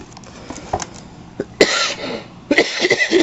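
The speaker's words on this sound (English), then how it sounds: "I'm sorry about all the coughing" Several harsh coughs from a person with a throat problem, one weak cough early, then two loud bursts close to the microphone, each a cluster of rough throat-clearing hacks.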